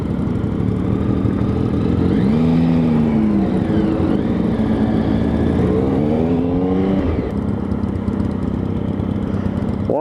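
A motorcycle rides along the road, its engine drone close and steady with rising and falling revs as gears change, under continuous wind rush.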